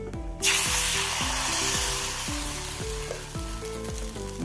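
Sesame oil sizzles loudly in a cheenachatti pan while making Kerala-style vellayappam, a steady bright hiss starting abruptly after a short quiet moment, with no talking.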